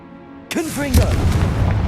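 A voice shouts a spell in Hogwarts Legacy, followed by a Confringo fire blast erupting into a loud, rumbling boom that keeps roaring to the end.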